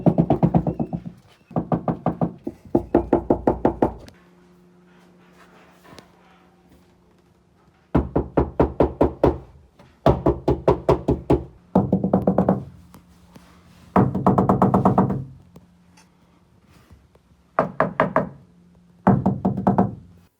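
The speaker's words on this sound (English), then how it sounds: "reduce the big panel resonance of this big boxy car as much as possible, since it currently sounds like this." Hollow knocks on the big, resonant body panels of a boxy Nissan Patrol SUV with its interior stripped, struck in quick bursts of several raps each, separated by pauses where a low booming hum lingers.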